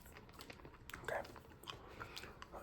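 Hard candy crunches and clicks in the mouth during close-up ASMR, with sporadic crisp bites and wet mouth sounds over faint background noise.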